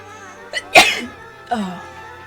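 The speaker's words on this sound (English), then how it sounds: "that was a sneeze" A single sharp human sneeze bursts out close to the microphone during a casual video game playthrough, with a small intake of breath before it and a short vocal sound after.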